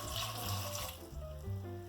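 Water runs steadily from a tap into a saucepan of whole cranberries for a sauce, a continuous close splashing flow with faint background hum and no speech.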